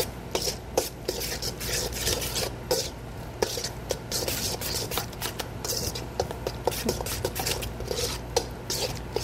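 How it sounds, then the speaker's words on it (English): Fresh chopped dill and garlic powder being stirred in a bowl, a steady run of scraping, rubbing strokes and light taps repeating throughout with no talk. "I'm going to stir that up."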